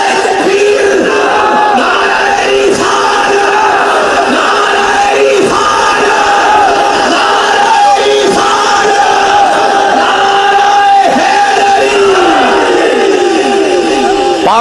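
A large crowd chants the slogan Nara-e-Takbeer in loud, rhythmic, repeated roaring shouts that swell and fall steadily for a long stretch, filling the space with massed voices.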